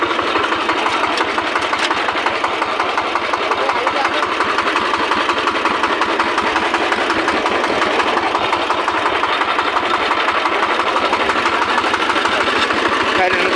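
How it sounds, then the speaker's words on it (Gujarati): A tractor engine runs nearby, loud and continuous, with a steady rumbling drone and rapid mechanical knocking that holds without a break throughout. "આવી રીતે ટ્રેક્ટર ચાલે છે"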